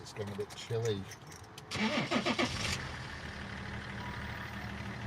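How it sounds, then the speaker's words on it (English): A car engine cranks and catches, then settles into a low, steady idle heard from inside the car, with a person speaking briefly before the start. "Sorry about the noise, I'm just going to put my engine on for a minute."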